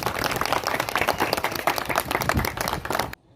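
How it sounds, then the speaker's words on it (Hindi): Applause from a gathered neighbourhood crowd at an informal outdoor medal event, dense and continuous clapping close by for about three seconds before cutting off abruptly. "तालियां बजाओ जी।"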